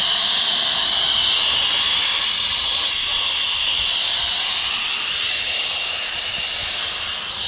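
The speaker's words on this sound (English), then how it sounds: "I think there's an air leak." Air leaks from a truck in a loud, continuous hiss that stays steady and close throughout, with a faint low rumble beneath it.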